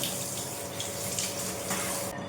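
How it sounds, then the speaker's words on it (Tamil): Tap water running steadily into a container to wash greens in a home kitchen, a constant close splashing hiss with no speech. "ஃபஸ்ட்டு தண்ணி இந்த மாதிரி ஃபுல்லாக பிடிச்சிடுவேன்."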